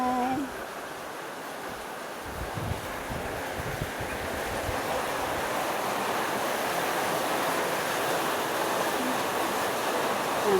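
Steady rain falling on a small house, a dense, even hiss of drops that keeps up without a break and grows slightly fuller over time, with no voices.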